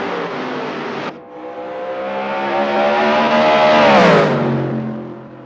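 A race car in a racing video game accelerates hard, its loud engine note climbing steadily in pitch before dropping sharply at a gear change and pulling on, with a brief lull near the start and no talking.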